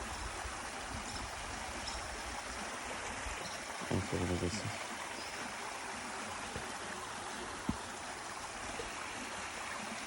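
Floodwater rushes steadily through a breached pond bank after heavy rain, a constant broad roar of flowing water with voices speaking briefly over it.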